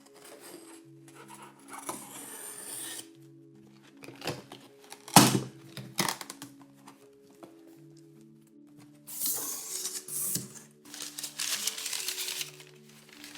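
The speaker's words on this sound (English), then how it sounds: "let's slice this open" An X-Acto knife slices open a cardboard package of Japanese woodblock print scrolls, heard as close crinkling and scraping with a sharp burst near the middle and more rustling and tearing toward the end.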